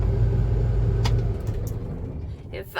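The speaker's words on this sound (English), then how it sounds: "If I shut the mower off, then maybe you can actually hear me a little bit better." A lawn mower engine rumbles loudly and steadily while cutting rye, then is shut off and winds down and fades, with a few faint clicks and knocks near the end.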